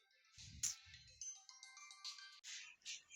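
A phone ringtone chimes in a melodic, repeating pattern during a home-taught English lesson, fairly faint and alone with no talk over it.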